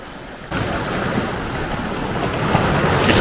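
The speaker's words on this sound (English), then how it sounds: "The waves are getting bigger and bigger." Ocean waves break and wash onto a North Wales beach, a broad continuous surf roar that swells louder toward the end, with wind buffeting the microphone and no voices.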